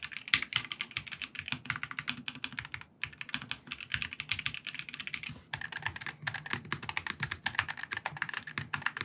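A Wooting 60HE keyboard fitted with test switches is typed on steadily, giving a dense run of close, crisp key clacks with one brief pause partway through.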